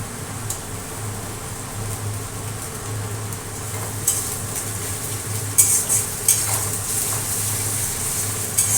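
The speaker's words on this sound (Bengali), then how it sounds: "এই যে পেঁয়াজটা আমার পুরো বাদামি করে ভাজা হয়ে গেছে এর ভিতর দিয়ে দেবো হচ্ছে এই যে আদা রসুন বাটা" Ginger garlic paste goes into browned onions in a frying pan, giving a steady soft sizzle with occasional sharper clinks and scrapes of stirring, close by and with no talking.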